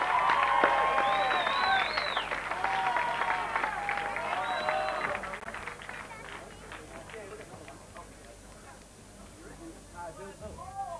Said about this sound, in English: Rob and Narelle Brock, give them a cheer.